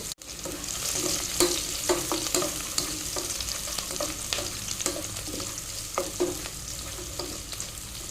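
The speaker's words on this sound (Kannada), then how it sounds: "ಒಂದು ನೀರುಳ್ಳಿಯನ್ನು ಕಟ್ ಮಾಡಿ ತೊಗೊಂಡಿದ್ದೇನೆ ಅದನ್ನು ಹಾಕ್ತೇನೆ" Chopped onion frying in ghee and coconut oil in a pan, a steady close sizzle broken by repeated scrapes and stirs of a spoon, with no talking.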